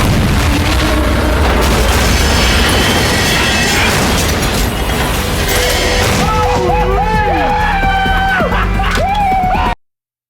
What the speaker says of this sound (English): the Rangers blow up their vehicles with military-grade efficiency